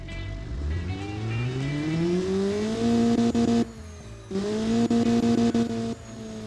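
A car engine in the BeamNG driving game revs up steadily, climbing in pitch through several gear shifts with a brief drop between, loud and close, no talking.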